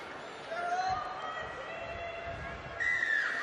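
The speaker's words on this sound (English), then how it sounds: "The referee's whistle sounds and away we go." Referee's whistle starting a women's rugby league match, Warrington Wolves versus St Helens in the Betfred Women's Super League, a short shrill blast over steady stadium crowd noise, with a second brief whistle-like tone near the end.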